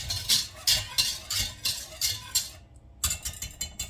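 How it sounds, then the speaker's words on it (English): A whisk stirs boiling milk in an Instant Pot with quick, rhythmic metallic scrapes and clinks against the pot, about eight regular strokes, a short pause, then faster stirring, close by and without talk. "you just want to take a whisk and just give it a quick stir"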